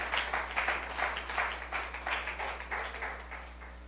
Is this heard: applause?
yes